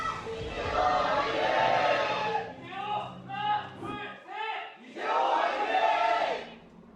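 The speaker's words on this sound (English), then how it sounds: "Cheers ring out in the crowd." Crowd cheering rises at the start of a StarCraft esports match between two pro players, loud broadband roar for a few seconds, then a commentator talks briefly before the cheering swells again.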